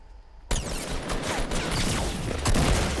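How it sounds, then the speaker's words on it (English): Rapid gunfire erupts suddenly in Fortnite Battle Royale, a loud dense burst of overlapping shots and impacts from a squad fight that continues to the end after a brief quiet start. "I'm getting shot from behind."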